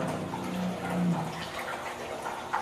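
Water is stirred and aerated, and a steady wash of sloshing and bubbling continues throughout. The sound is moderately close and even, with no talk.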